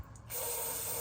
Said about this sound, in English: So I'm just gonna spray some brake cleaner in there.